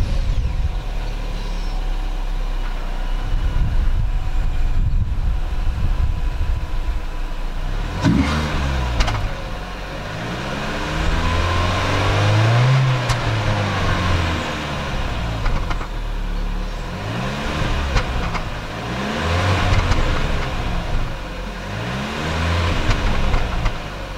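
A Chevy Cruze engine with its stock exhaust revs up and falls back several times, a fairly quiet, steady mid-range drone with rising and falling pitch sweeps. No one talks over it.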